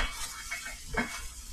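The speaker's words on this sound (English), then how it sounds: "we're all set to give this thing a good stir." A spoon stirs jasmine rice with turkey juice in a pot, giving a faint scraping, wet shuffle with a couple of light clinks against the pot, close and quiet, without speech.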